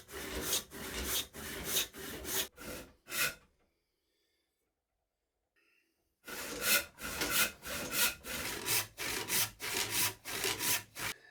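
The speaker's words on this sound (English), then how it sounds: "Figured the saw might be slightly quicker than planing here" A hand saw cuts through wood for a live edge shelf in rhythmic, close back-and-forth strokes. A silent break of a few seconds interrupts the strokes before the sawing resumes at the same steady pace.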